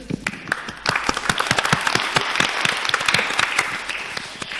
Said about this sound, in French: Disons, on peut l'applaudir.